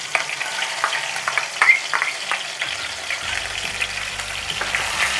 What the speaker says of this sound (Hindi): ऑयल हमारा अच्छे से गर्म हो चुका है, अब हम इसमें कद्दूकस किया हुआ प्याज और अदरक का पेस्ट ऐड कर देंगे